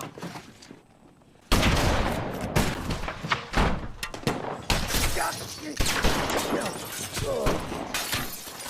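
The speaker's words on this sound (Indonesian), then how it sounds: "Lalu akhirnya Al sang ipar pun ditembak mati." Gunfire erupts in a Western film about Billy the Kid. After a quiet opening, a dense, loud barrage of shots breaks out, mixed with crashes and breaking sounds.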